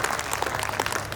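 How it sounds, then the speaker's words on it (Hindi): Audience applauding at a gathering in honour of a guest, a dense, steady burst of many hands clapping at once, fairly loud and close, with no talk over it. "एक बार उनके लिए तालियां बजाइए"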